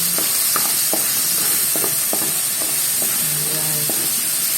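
Vegetables with a little pepper being stirred in a sautéing pan, with a steady sizzle and hiss underneath and a series of soft, irregular scrapes and clinks from the stirring utensil, close by, no talking.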